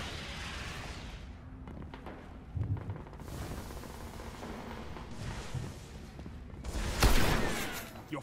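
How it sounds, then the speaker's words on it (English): Shotgun blasts and other gunfire ring out in a Destiny Crucible match, with a few booming shots and a loud burst near the end over a busy background of game effects. "See if we can get a close quarter battle with this enemy shotgun."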